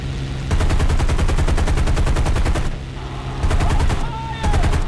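Rapid .50 caliber machine guns on a P-51D Mustang fire in a flight combat video game, loud and close, in long sustained bursts with brief pauses between them over a steady drone.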